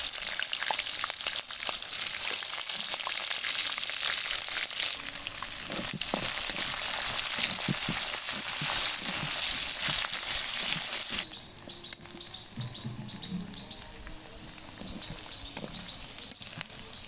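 Onions frying in hot oil for chicken biryani give a loud, dense, continuous sizzle close by, which drops to a softer, quieter crackle partway through.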